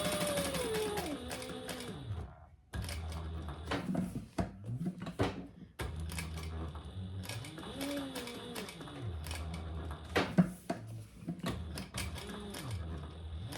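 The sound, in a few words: sewing machine stitching eyeglass case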